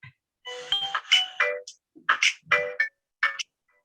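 A nurse's mobile phone ringtone plays a short bright electronic melody of repeated chirping notes in uneven bursts, close and clear with no talk over it.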